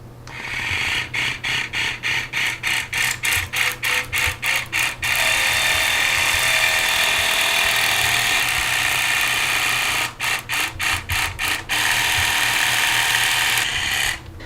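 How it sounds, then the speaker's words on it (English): Travel water flosser run through its modes, pointed into a sink, giving a rapid buzzing pulse that switches between stuttering bursts and a continuous spray hiss, loud and close with no talk. "So I'm gonna turn the power button on and go through some of the modes."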